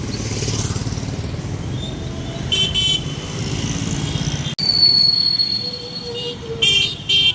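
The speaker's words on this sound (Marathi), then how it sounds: "आउट साईडने गाड्या चाललेल्या आहेत." Busy road traffic with engines rumbling past and several car horns honking in short bursts, some close and loud, others farther off.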